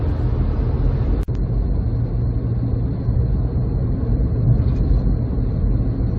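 An MG Midget drives on the road early in the morning, heard from inside as a steady, loud low engine and road rumble with a brief click near the start.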